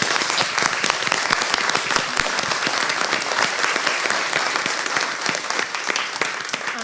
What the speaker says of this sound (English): another round of applause for the Simon community